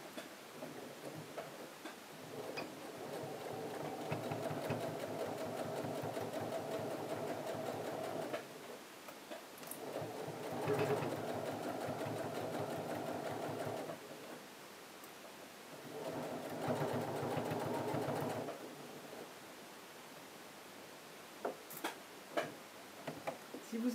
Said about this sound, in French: je vais coudre de ce côté-là.